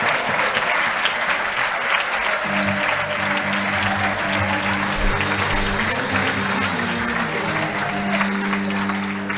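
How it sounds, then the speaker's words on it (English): A large audience applauds volunteer managers at a volunteering awards celebration, dense continuous clapping with upbeat music joining in beneath it after a couple of seconds. "Please give them a huge round of applause."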